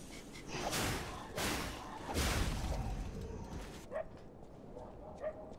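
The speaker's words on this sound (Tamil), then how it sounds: "நாய் வேற கத்துது எங்கேயோ." A dog in the video game Lies of P barks in three loud, spaced bursts, followed by fainter, short yips toward the end.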